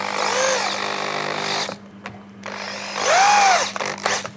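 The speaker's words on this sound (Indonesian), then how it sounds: "ternyata nyaman juga menggunakan bor ini untuk proses penyekrupan" A Dongcheng DJZ10-10 electric drill drives screws in two loud whining bursts, each rising and falling in pitch as the motor spins up and slows, separated by a short pause with faint clicks.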